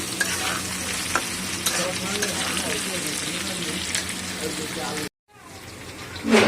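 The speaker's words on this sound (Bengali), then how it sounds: "এদিকে তরুলি আলু ভাজা হচ্ছে।" Sliced potatoes fry in oil in a pan in a home kitchen, giving a dense, continuous close-up sizzle with bursts of stirring. After a brief cut, a quieter sizzle returns.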